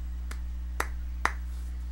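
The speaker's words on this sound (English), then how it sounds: "I'm trying to start a slow clap, but there's no one here" One person starts a slow clap alone, three sharp claps spaced about half a second apart, each gradually louder, over a low steady electrical hum in a quiet room.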